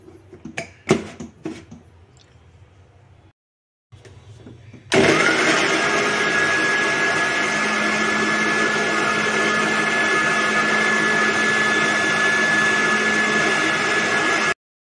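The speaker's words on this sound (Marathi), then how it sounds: "आता आपलं हे कांदा, आता एक खोबरं, आपण जिरं वगैरे सगळं मिक्स करून हे वाटून घेऊ" A mixer grinder whirs loudly and steadily, grinding roasted onion, coconut and cumin for a spicy shev bhaji; brief clatter and a short pause come first, then the motor runs continuously to the end.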